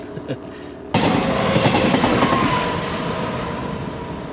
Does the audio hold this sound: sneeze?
no